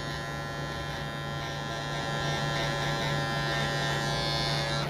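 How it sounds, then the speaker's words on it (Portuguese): Electric beard trimmer buzzing steadily while shaping and lining a beard, a continuous close-up hum with no talking over it. "Primeira vez você vai precisar do auxílio de uma maquineta"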